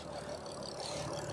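A Ford Anglia engine idles steadily at close range, a low continuous rumble with no speech.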